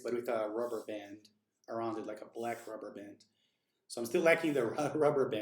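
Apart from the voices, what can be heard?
No everyday noise stands out behind the speech.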